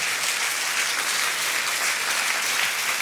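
A church congregation applauds steadily, a dense even wash of many hands clapping at once, loud and close, with no voices over it.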